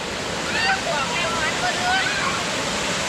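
Khlong Sai waterfall in Chaiyaphum, Thailand, roars as a steady broad wash of falling water while someone talks over it.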